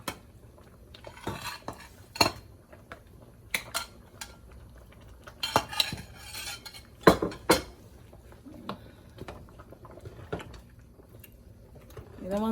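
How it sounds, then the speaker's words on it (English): A spoon scrapes and clinks against a pot as okra soup with fish is gently stirred, giving scattered metallic knocks and clatters over a quiet background, with occasional soft talking. "You don't want to stir too heavily, otherwise you're gonna break up the fish."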